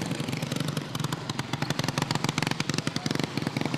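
A student-built, water-powered car made from reused school materials with a wheelbarrow tire and a motorcycle engine, running loudly with rapid, rattling put-put exhaust pulses, close by and alone.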